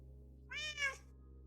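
A Minecraft cat gives a single short, clear meow over a low steady background hum, quiet and close, with no voices.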